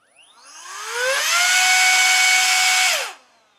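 A USB-C rechargeable electric air duster spins up with a rising whine, blows with a loud, steady, high-pitched rush for a couple of seconds, then winds down quickly.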